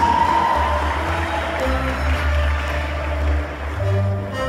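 Applause from a crowd at a school graduation ceremony as a graduate is received, steady clapping with some cheering over a low hum, continuing throughout.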